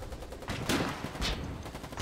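Sniper rifle fire in the Foxhole war game comes as two sharp, fairly distant cracks about half a second apart, quiet against faint battlefield background noise.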